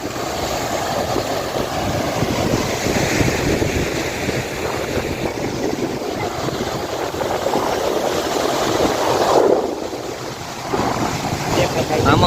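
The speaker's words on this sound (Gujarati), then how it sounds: "હાલો મોજા જોતા આવીએ" Sea waves break at the Porbandar shore during a fair, a steady roar of surf blended with wind rumble on the microphone, loud and continuous, with faint voices in the background.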